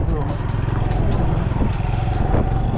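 Motorbike engine running nearby on a rural roadside in Vietnam, a steady low rumbling drone throughout, with people talking loudly over it.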